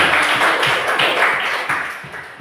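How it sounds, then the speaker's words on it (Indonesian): A classroom applauding a student group, with brisk, fairly loud clapping from many hands going on steadily for a couple of seconds, no talking. "Give applause."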